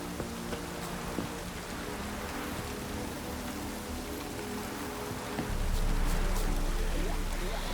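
Steady rain hisses and patters across the ground in The Witcher 3: Wild Hunt, a dense even wash that swells slightly louder near the end, with no voices over it.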